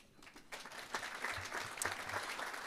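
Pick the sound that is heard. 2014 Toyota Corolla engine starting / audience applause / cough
audience applause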